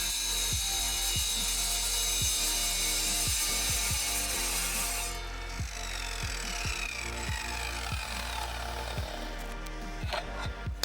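Steel legs for a footstool are cut with a hand saw, giving a steady run of rasping back-and-forth strokes, close and fairly loud, in an even rhythm for several seconds with a shift in tone partway through.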